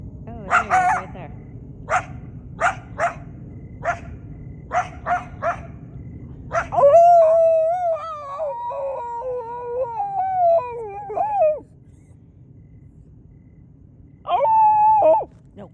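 A coyote in West Los Angeles barks in a run of sharp, evenly spaced yaps, then shifts into a longer wavering, yelping call. A voice comes in briefly near the end.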